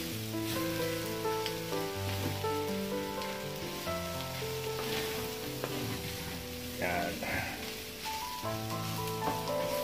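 Pork menudo sizzles and fries steadily in its own rendered fat in a Salad Master electric skillet, a continuous close crackle with occasional stirring, while music plays.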